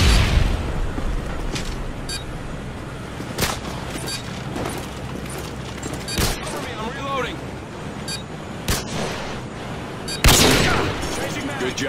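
Video game firefight with a stun grenade going off amid dense, continuous gunfire and booming blasts, loud bursts spiking throughout, with a voice heard over the shooting.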